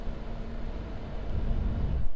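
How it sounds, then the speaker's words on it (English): Cooling fan vent on a NewAir 250-count electric cigar humidor wineador fridge blows a steady low whoosh of air with a faint hum, recorded up close with some handling noise and no voices. "air blowing from the vent of that fan for this fridge"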